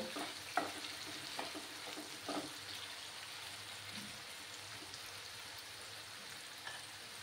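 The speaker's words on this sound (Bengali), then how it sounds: "মিডিয়াম আঁচে আমি এটাকে ফ্রাই করে নেব" Sliced potatoes fry over medium heat in a pan with a steady soft sizzle, while a spatula stirs and scrapes at intervals, producing several light clicks and taps over the continuous frying hiss.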